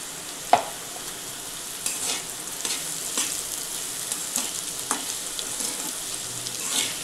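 A ground green peanut chutney paste sautés in a pan with fried onion, giving a constant soft sizzle and a few scattered scraping stirs, heard close with no talking.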